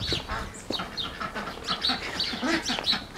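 Ducks in a backyard flock quack and honk in overlapping raspy calls at close range, with a little background noise.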